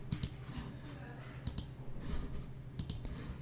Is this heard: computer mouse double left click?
yes